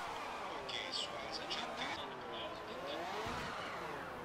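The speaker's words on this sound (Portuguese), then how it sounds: "Nossa, perdi o controle do carro!" A Formula 1 race car in a racing video game roars at speed while losing control, a faint high engine whine with tire noise and a rising pitch sweep, with talk over it.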